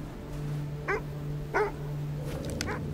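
A sled dog in the video game Kona II: Brume gives a few short, separate barks over a steady low game hum, moderately close, with no talking.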